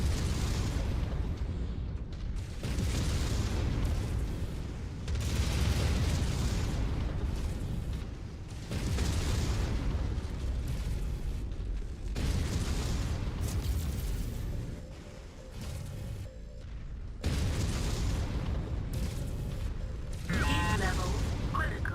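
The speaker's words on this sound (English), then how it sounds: "he's got an AC-20 burst fire" AC-20 autocannon burst fire from a mech in MechWarrior 5, heavy booming bursts repeating every few seconds with loud mechanical rumble between them, while a voice speaks in the background.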